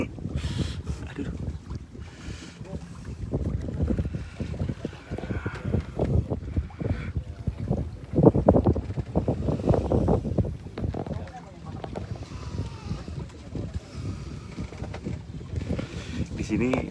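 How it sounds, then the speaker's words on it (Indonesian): Strong wind at the sea off Bekasi Regency buffets the microphone in gusty, rumbling waves, swelling loudest midway, while a person talks over it. "Di sini anginnya sangat kencang."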